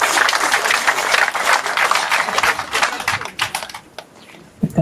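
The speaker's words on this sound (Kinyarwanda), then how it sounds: "Amashyi menshi dushimira." Audience clapping at a gathering, a dense burst of applause that thins out into scattered claps toward the end.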